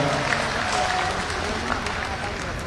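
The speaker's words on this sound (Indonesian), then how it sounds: "Pernyataan Kaisang ini sontak mendapat teriakan dan tepuk tangan dari kader PSI yang hadir" Applause and cheering from party cadres at a PSI campaign rally for the Jakarta governor race, a steady dense crowd roar of clapping and shouts that holds at an even loudness throughout.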